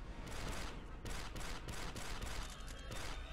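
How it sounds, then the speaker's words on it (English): Rapid concussion rifle fire in Star Wars Republic Commando, a loud dense stream of blasts in quick repeated bursts with brief gaps, nearly continuous across the clip. "They've got concussion rifles."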